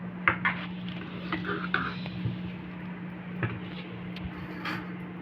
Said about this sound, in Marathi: छान आता ढवळून घेऊया